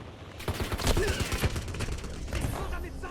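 Bursts of automatic gunfire from a Warzone match rattle in quick, overlapping volleys. They are moderately loud, and game chatter and effects sit mixed in around them.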